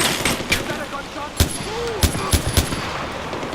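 Bursts of gunfire in the video game Far Cry 4, a few sharp shots and short rapid volleys amid game ambience, with faint voices in the background.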